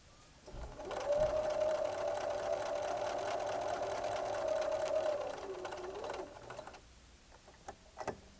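A sewing machine stitches a narrow quilt border with a 3/8-inch seam, running in one steady, close whirring hum for about five seconds before slowing to a stop, followed by faint handling clicks.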